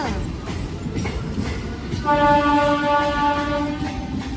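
A passenger train at a railway station rumbles close by with a continuous heavy drone, then a loud, sustained horn blast sounds for about two seconds midway.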